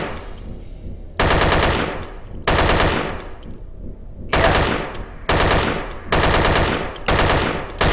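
Gunfire against zombies in the video game Dead Effect, loud rapid automatic bursts repeating in several close volleys with short gaps, with no speech during the shooting.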